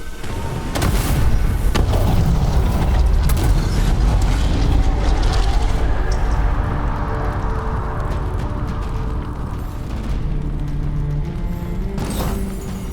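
A massive explosion tears apart a structure in the fantasy game Dragon Age: The Veilguard, a loud, sustained roaring boom with rumbling low end and grinding, crumbling debris, followed by a second burst near the end.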